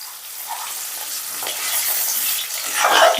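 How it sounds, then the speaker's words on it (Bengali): Eggs frying in white oil with salt and turmeric, a steady close sizzle with stirring scrapes, growing a little louder toward the end. "আমি ডিমটা নুন হলুদ দিয়ে হালকা লাল করে ভেজে নেব আমি সাদা তেল দিয়ে রান্না করছি"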